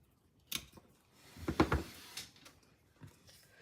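Scissors cutting through pine sticks for a small craft tree, a few close, crisp snaps and crunching snips clustered together, fairly faint, with quiet gaps around them.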